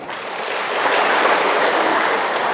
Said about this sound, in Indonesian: Luar biasa tepuk tangan tuh kita sude